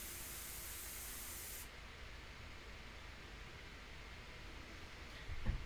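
An airbrush sprays India ink onto paper, a soft steady hiss of air that runs continuously, brighter for the first second and a half before settling lower, with a faint knock near the end.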